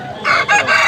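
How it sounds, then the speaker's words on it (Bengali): A large rooster crows at Balrampur chicken market in India. One short, loud crow sounds close by, with no talk over it. "এই জায়গায় ম্যাক্সিমামই সব বড় বড় সাইজের মোরগ"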